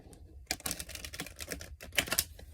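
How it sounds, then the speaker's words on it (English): Tarot cards shuffled by hand in a series of crisp, rapid riffling bursts, close up and fairly loud, with no talk over them. "We're just going to shuffle a couple times until Spirit says that they're ready."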